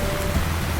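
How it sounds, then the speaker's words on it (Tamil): Heavy rain in an animated story, a dense, steady hiss of downpour with a soft low rumble underneath, loud and continuous with no voices. "பலத்த மழை பெய்ய ஆரம்பிக்குது"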